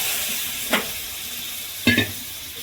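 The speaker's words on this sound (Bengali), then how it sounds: "এবার একটু কষাবো" Cabbage being stir-fried and cooked down in a pan, two short spatula scrapes standing out over a faint steady sizzle, no voices.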